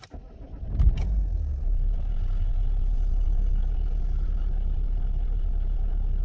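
A Vauxhall Opel Insignia is started on a cold morning: a brief cranking burst, then the engine catches and settles into a steady low idle, close and without talk.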